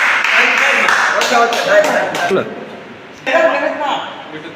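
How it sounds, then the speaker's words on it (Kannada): Audience clapping at a stage comedy show, heard in bursts mixed with laughter and a speaking voice, fairly close and lively, with one brief quiet gap before the room picks back up. "ಚಪ್ಪಾಳೆ"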